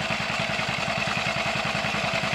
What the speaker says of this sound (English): 1943 B model John Deere. It's a hand cranker